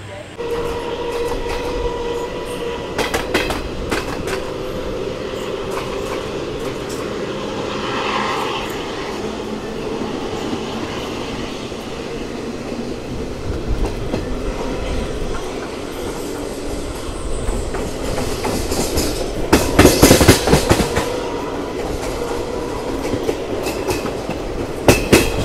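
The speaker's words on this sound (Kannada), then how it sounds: "ನಮ್ಮ ಟ್ರೈನ್ ಸದ್ಯಕ್ಕೆ ತಲುಪಿದೆ ಹಿರೇಹಳ್ಳಿ ರೈಲ್ವೆ ಸ್ಟೇಷನ್ಗೆ." A passenger train on the Bengaluru to Chikmagalur line rolls along the tracks near Hirehalli station, a steady rumble with clattering of the wheels throughout and a louder burst of rattling toward the end, heard from on board.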